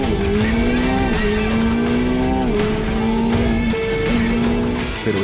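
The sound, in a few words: F1 driver accelerating race car, tires squealing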